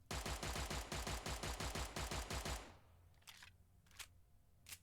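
A BAR automatic rifle firing in a video game, a rapid even burst of about fifteen loud close shots over two and a half seconds, followed by faint mechanical clicks and rattles.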